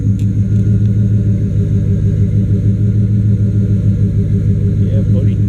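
A truck engine idling roughly after a change to its ignition timing, a loud, steady low rumble with an uneven pulsing throb that stays close throughout the clip.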